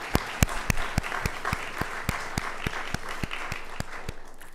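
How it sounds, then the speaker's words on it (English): Audience applause at a university athletic hall of fame induction ceremony, a steady crowd of clapping with a few loud, distinct nearby claps standing out, continuing throughout without speech. "How about another round of applause for Jenna?"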